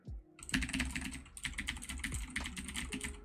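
Rapid computer keyboard typing with dense, irregular key clicks, fairly close and steady, continuing almost without pause after a brief quiet start.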